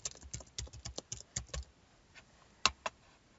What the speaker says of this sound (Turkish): Oyuncunun adını yazıyorum.